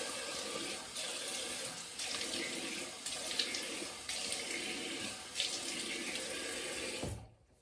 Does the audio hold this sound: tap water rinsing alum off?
yes